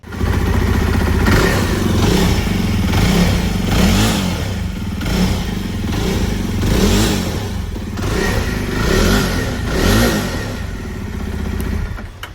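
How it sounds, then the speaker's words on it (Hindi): A Java Bobber 42 motorcycle engine idles steadily in neutral, its loud, close exhaust note throbbing in a rough, pulsing rhythm with occasional light swells, running alone without any talk. "तो this is how the bike sounds."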